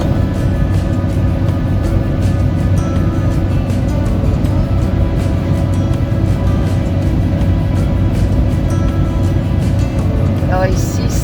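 A camper van cruising along a country road, with a loud, unbroken engine drone and tyre rumble heard from inside the cab.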